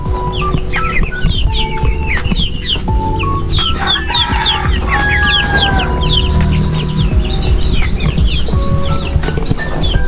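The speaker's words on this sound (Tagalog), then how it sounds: "Papakain na po tayo ng ating mga sasabungin." Young gamecock chickens clucking and chirping at feeding time, a dense continuous chorus of overlapping calls, loud and close, with occasional sharper squawks and no talking.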